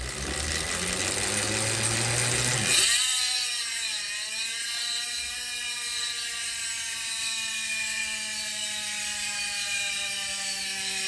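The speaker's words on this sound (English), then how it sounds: "Ratchet system." A Roval CLX Rapide wheel hub on a Specialized Tarmac SL7 Pro freewheels, a dense high clicking ratchet buzz that starts as the wheel spins up, then slowly falls in pitch and slows as the wheel coasts down, loud and close.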